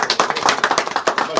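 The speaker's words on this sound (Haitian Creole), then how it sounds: "On applaudit ça." Audience applause at a ceremony presenting an appreciation award, a dense burst of clapping from many hands that runs through the whole brief moment, close and fairly loud, with no voices breaking through.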